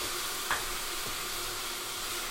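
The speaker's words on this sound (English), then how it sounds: "So just keep stirring it." Garlic and green onion stir-frying in a pan, a steady broadband sizzle with a brief utensil scrape near the start, close and continuous, no talking.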